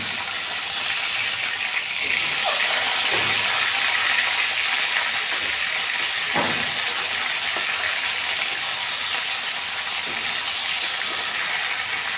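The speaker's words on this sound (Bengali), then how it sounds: "আমি মাছটাকে ভেজে নিচ্ছি" Snakehead fish frying in hot oil in a home kitchen, a steady broadband sizzle running throughout with a few brief scraping or clinking accents as the pieces are turned.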